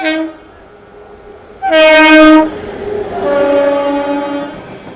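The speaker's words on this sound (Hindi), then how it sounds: "12381 हावड़ा ने दिल्ली पूर्वा एक्सप्रेस वैप 7 के साथ में ओवरटेक मारने जा रही है हमारी अमृत भारत एक्सप्रेस को" The Howrah–Delhi Poorva Express, hauled by a WAP-7 electric locomotive, sounds its horn while overtaking: a short tone, a loud, bright blast of about a second, then a longer, softer honk, heard close over steady rail noise.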